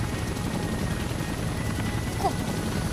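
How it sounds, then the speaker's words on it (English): A helicopter arrives in the game Tokyo Xanadu eX+ with a loud, continuous rotor thrum and engine rumble that hold steady throughout, and no voices come through above it. "It's his helicopter."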